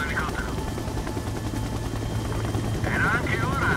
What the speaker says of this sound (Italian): È arrivato l'elicottero.